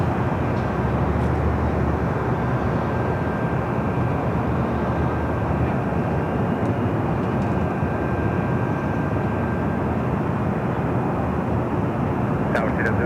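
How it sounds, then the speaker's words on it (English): Steady broadband roar of an Asiana Airlines A350 arriving at Los Angeles International Airport, a constant distant jet rumble with a faint tonal whine, heard from outdoors with no clear peaks. "We do have Asiana Flight 204 A350, next arrival."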